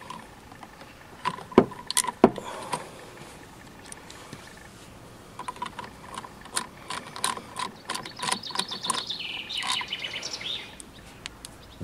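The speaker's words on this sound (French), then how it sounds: "Nous allons donc desserrer ces 4 vis et retirer notre turbine." A ratcheting socket wrench with an 8 mm socket loosens four screws on the ignition cover of a Chinese GY6 139QMB scooter. Bursts of close clicking come in short runs separated by pauses, with faint bird chirps in the background.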